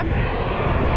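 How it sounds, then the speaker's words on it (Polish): Geothermal steam vents roaring at Reykjanes, Iceland, a dense continuous broadband rush like a jet engine, loud and unbroken throughout. "ten dźwięk, który słychać, to nie jest dźwięk samolotu, to właśnie jest ta para wodna, która się tak wydobywa"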